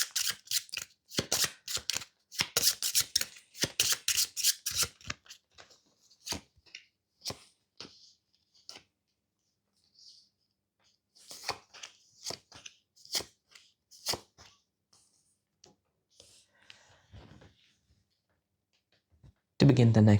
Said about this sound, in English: We draw up cards to our hand limit.